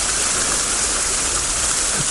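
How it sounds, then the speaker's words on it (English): A waterfall on Trail G20 at Windrock Park, swollen after a week of heavy rain, roars as a loud, dense, unbroken rush of water close by. "here's the waterfall on Trail G20."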